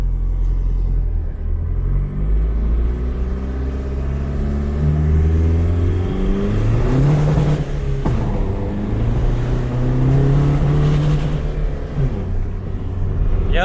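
A car engine revs repeatedly while climbing a steep hill, loud and close, its pitch rising and falling in several surges over a low rumbling drone.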